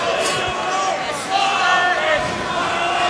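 A wrestling arena crowd jeers in a dense, steady roar with raised shouts from many voices, and a voice is mixed in.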